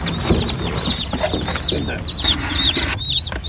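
Farm chicks and other fowl peeping in a rural setting, many high thin chirps overlapping steadily with occasional louder bursts, close by with some clucking and faint talk underneath.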